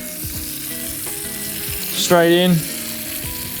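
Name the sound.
frittata egg mixture sizzling in frying pan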